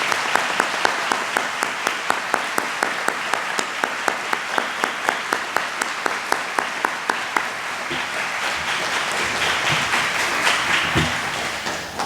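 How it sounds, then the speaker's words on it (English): An audience at a fifth grade closing ceremony applauds the teachers: a few crisp, evenly spaced claps at first, then swelling into broad, sustained applause from the crowd. "Let's give them a big round of applause as well."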